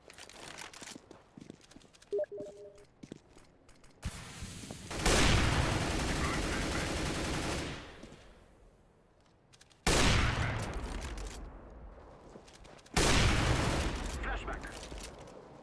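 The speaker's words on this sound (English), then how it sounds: "I'm taking spam shots through the smoke" Rapid bursts of gunfire fired blindly through a smoke grenade in CS:GO on the Dust2 map, with loud sustained volleys broken by short pauses, preceded by a few softer in-game clicks and equipment sounds.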